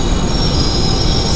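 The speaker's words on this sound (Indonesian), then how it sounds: "Dan di sana ada KRL arah Angke via Manggarai." A KRL commuter train rolls into a station with a loud, sustained high-pitched wheel squeal over a steady low rumble, close by.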